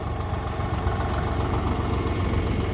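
A tractor holding a load of brush clamped in its grapples idles with a steady, close, low-pitched engine rumble and a faint knocking texture, continuous and without talk.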